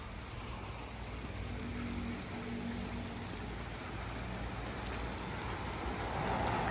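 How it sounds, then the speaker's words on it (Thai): Heavy rain pours in a steady, dense hiss across the whole stretch, loud and unbroken, with no voices. "แล้ว ฝนตกนั่นมาก"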